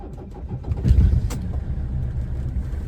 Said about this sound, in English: let's go ahead and get my car all started up after the glow plugs go, because it is a diesel